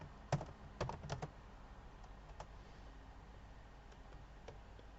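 Computer keyboard typing, a quick cluster of faint key clicks near the start followed by a few sparse taps in a quiet room.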